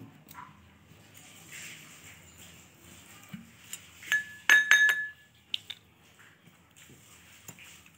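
Glass clinks while honey is added to a fish bait mix for winter fishing, a cluster of sharp, close chinks around the middle with a few lighter taps after, over a quiet room.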